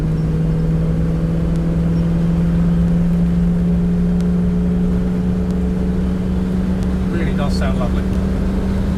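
Land Rover Defender 90 50th Anniversary V8 automatic engine droning steadily under load as it accelerates, a constant loud low hum with wind and road noise throughout and a brief higher whine late on.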